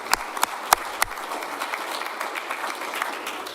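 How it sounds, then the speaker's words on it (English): Audience applause at a Rotary Club gathering honoring a former basketball player, starting with a few distinct claps and settling into a steady, moderate round of clapping across the room. "Round of applause."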